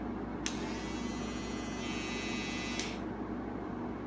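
A small Wahl Peanut electric hair trimmer switches on, buzzes steadily for about two and a half seconds, then cuts off, over a low background hum.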